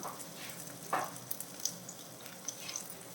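Dates sautéing in a pan give a faint, steady sizzle with a few soft stirring scrapes and small pops, close and quiet, with no voices.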